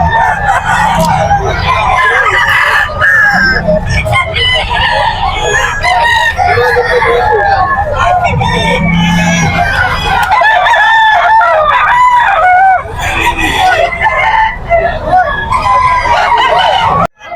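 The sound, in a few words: roosters crowing at a chicken market in Bocaue, Bulacan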